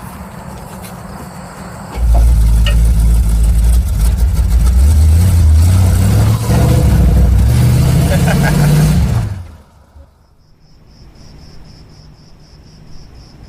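A car engine running roughly, a loud, uneven low rumble that rises and surges for several seconds before cutting off, leaving crickets chirping faintly in the night; a voice talks over it.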